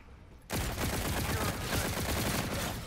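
Rapid automatic fire from the X-EON gun in a hardcore-mode shooter game erupts after a brief quiet moment and roars on as a dense, continuous, close burst for over two seconds.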